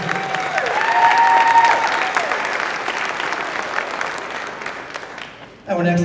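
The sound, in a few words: audience applause for Israel Cisneros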